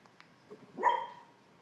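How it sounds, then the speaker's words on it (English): A sleeping dog whimpers while dreaming, letting out one short, soft whine after a few faint rustles in an otherwise quiet room. "My dog's having a dream."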